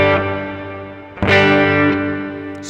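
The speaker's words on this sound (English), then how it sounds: "So you can feel that like Hall reverb." A sustained, distorted electric guitar chord played through a hall reverb effect rings out with a spacious, lingering wash, then a fresh strum blooms and trails off into a long reverberant tail.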